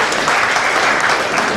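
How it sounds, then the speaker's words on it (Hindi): An audience at a motivational lecture claps in steady, dense applause, loud and close throughout the short burst. "ताली बजाए, वेरी गुड"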